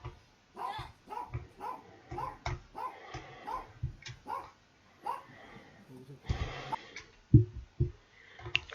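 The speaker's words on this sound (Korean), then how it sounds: "강아지 소리 빼고 들어보실게요." A dog barks and yips in short repeated bursts with a few whimpers between them, fairly close and loud, recorded during a leak-detection job at a site with a ceiling leak.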